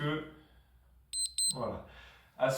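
Four quick high-pitched electronic beeps chirp in a rapid burst, with a person talking before and after them.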